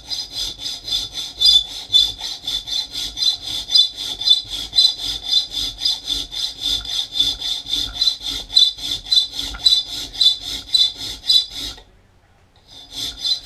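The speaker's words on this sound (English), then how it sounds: "I use a little chainsaw file," A small chainsaw hand file cuts a finger choil into a knife blade with steady, rhythmic back-and-forth rasping strokes, close and continuous, then stops abruptly near the end.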